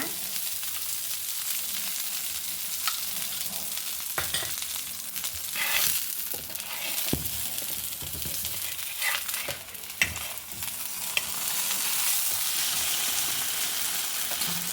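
Brinjal rotti roasts on a hot pan with a continuous close sizzle, broken by a few sharp clicks and scrapes from a utensil.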